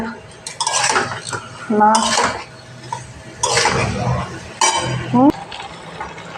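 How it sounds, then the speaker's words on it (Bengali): Small fish and pointed gourd curry are stirred in a pan, a spatula scraping and clinking against the metal in several loud bursts, with a voice heard between them. "আর একবার নাড়তে থাকবো"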